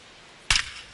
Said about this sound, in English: There's a swing and a drive.